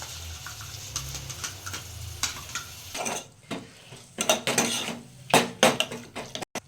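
A spoon scrapes and clinks against a pot while biryani masala with chilli powder and curd is stirred, with soft mixing at first and then sharp, irregular metallic knocks close by.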